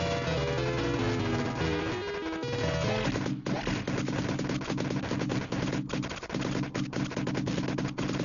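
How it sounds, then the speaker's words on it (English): Enemy gunfire in the Commando video game, dense rapid bursts of retro game shots over a loud, busy musical soundtrack, continuous throughout. "Gotta avoid all the enemy fire"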